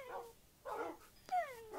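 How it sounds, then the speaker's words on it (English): Puppies in a zoo-building video game give a few short whines and yips with rising and falling pitch, soft and close, with no voices over them. "Whiny puppies."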